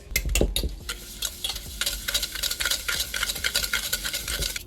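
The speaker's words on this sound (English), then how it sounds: "And then we are going to whisk this until it is smooth." A whisk beats banana bread batter with sugar in a bowl, giving rapid, rhythmic clinks and scrapes close by, steady throughout with no talk.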